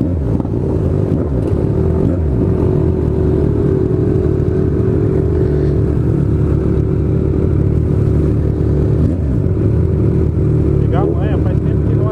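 A Kawasaki Z1000 motorcycle with a straight-pipe exhaust and no muffler rumbles loudly and steadily close by, its deep idle broken by a brief rev near the end.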